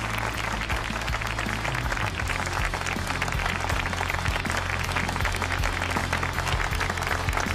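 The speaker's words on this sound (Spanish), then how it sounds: "Un aplauso a la banda, maravillosa." Sustained applause for the band on a televised singing talent show's blind audition in Peru, dense and steady throughout, with low musical tones from the band humming underneath.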